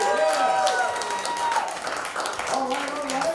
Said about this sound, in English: Give up a round of applause for Mania Posa